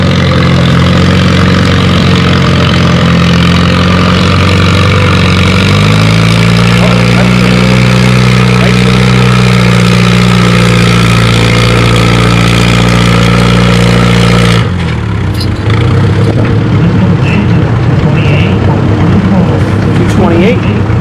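A pulling vehicle's engine at a pulling competition with 3750–5750 lb classes runs under throttle: loud low steady drone that rises in pitch midway, then cuts to a rougher lower rumble, with a voice talking over it.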